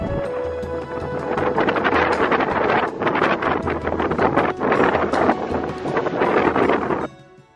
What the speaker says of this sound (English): So we're on a 30-minute boat ride to the island.